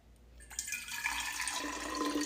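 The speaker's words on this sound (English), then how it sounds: "I still have some hot water left in here, so I'm just gonna pour it in" Hot water is poured into a cup, a steady rising liquid splash that starts after a brief quiet moment and builds gradually in brightness as the cup fills, close and alone.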